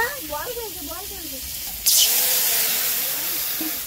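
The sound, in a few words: water poured into a hot pan, hissing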